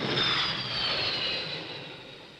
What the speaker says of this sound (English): A Sea Vixen landing at 130 knots, 720 feet of flight deck, and there's room to park